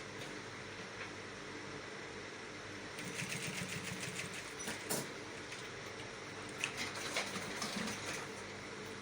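A sewing machine stitches the flap of an Ankara top, its rapid mechanical whirring rising in a couple of short bursts over a quiet room background.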